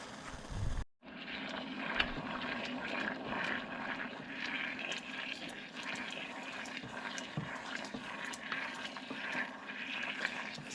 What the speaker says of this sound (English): As I stir it, you can hear the water evaporating on the bottom.